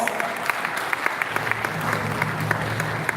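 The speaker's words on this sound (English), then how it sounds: "It deserves a round of applause." A crowd applauding steadily at a Nigeria Police Force and stakeholders forum, dense clapping at moderate distance, with a voice faintly underneath.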